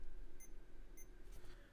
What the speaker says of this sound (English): Now we're getting some beeps.